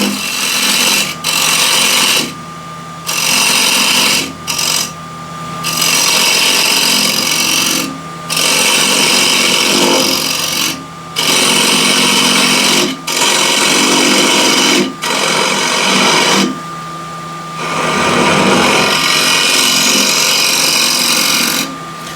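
Wooden bowl spinning on a lathe while a 3/4-inch square scraper cuts it, loud close scraping and whirring in repeated bursts of a few seconds separated by short pauses.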